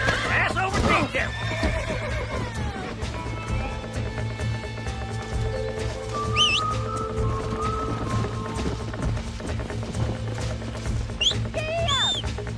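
A wild horse in the Western video game Red Dead Redemption neighs and whinnies loudly near the start and again late, with hoof clatter and game music running throughout, while voices speak over it.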